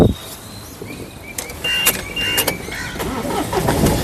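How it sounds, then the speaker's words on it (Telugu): A Mahindra TUV 300 T8 car, with thin whirring whines before the engine starts on a single crank and settles into a steady, close idle. "ఒకసారి ఈ కారు సింగిల్ సెల్ఫ్లో స్టార్ట్ అవుతుందా లేదా అన్న చూపిస్తున్నాను"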